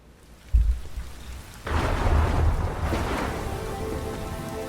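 Steady rain with a heavy thunder rumble at the start of a song, beginning with a low boom, then a swelling wash of downpour that stays loud and dense to the end.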